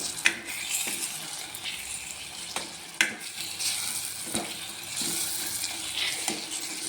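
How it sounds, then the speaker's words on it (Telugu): Browned onions sizzle in a pan as ginger garlic paste is added for a soya chunk curry, a steady close frying hiss broken by occasional sharp clinks and scrapes of a spoon against the pan. "ఉల్లిపాయలు బ్రౌన్ కలరు అయినాయి కదా కొద్దిగా అల్లం వెల్లి పేస్ట్ వేస్తున్నాను వేగిన ఉల్లిపాయలు"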